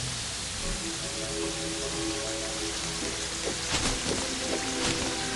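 Steady rain falls in Terraria, a dense, even hiss of drops that holds at a constant level for over five seconds with faint tonal game sounds underneath.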